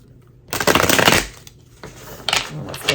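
Tarot cards being shuffled at close range, two bursts of dense papery riffling separated by a brief pause, with no talk over them.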